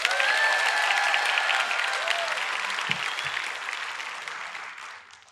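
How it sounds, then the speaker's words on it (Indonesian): A large student audience at an Indonesian BKKBN stunting-prevention kickoff event claps in loud, sustained applause that gradually fades out over several seconds. "Tepuk tangan dulu."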